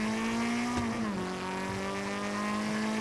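A car engine in GTA 5 hums at a steady pitch, dips briefly as it shifts, then settles into a sustained drone; no one talks.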